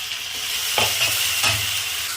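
Ginger paste and grated coconut fry in a pan, a close, steady sizzle with two brief scraping stirs, no talk.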